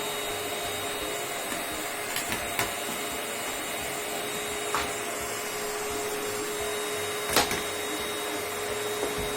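An electric vacuum cleaner sucking up toys indoors: a steady, close motor whine and airflow hiss runs throughout, broken by a few sharp clicks and rattles as small objects are pulled in.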